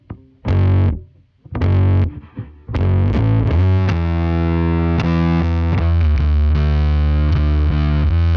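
Bass guitar run fully wet through a Bogren Digital Fatman effect, giving a loud, fuzzy, distorted tone: a few short plucked notes with gaps, then a long sustained, heavily saturated note ringing out on its own.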